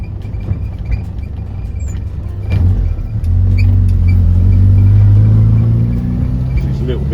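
A Morris Minor classic car, still cold, drives along with a steady low engine drone and road rumble that swells louder partway through, heard from inside the car.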